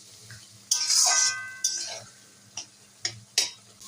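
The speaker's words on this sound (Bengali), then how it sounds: "এবারে ভালো করে মশলাটা কষিয়ে নেব।" Spices with salt and a splash of water being stirred and fried in a pan: bursts of hissing sizzle and clinking spoon scrapes, close and irregular, without talk.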